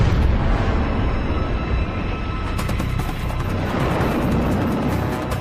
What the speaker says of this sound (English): But her sailors have no idea that a live torpedo is about to detonate